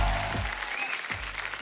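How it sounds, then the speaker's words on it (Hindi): Loud, sustained clapping from a large crowd fills the whole stretch, steady and close with no talking over it. "आप सबकी जोरदार तालियों के बीच।"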